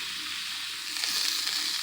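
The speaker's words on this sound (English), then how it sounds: "I have put frozen vegetables in the frying pan." A steady, loud sizzle of frozen vegetables frying in a hot pan, a continuous crackling hiss that swells slightly halfway through.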